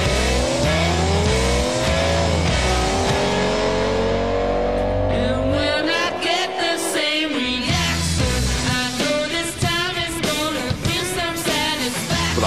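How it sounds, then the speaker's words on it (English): Championship-style RC car racing on a track, with a continuous high-pitched motor whine rising and falling as the cars accelerate, plus tire scuffs, loud throughout with no break. "Get ready for some rough and ready championship-style RC car racing."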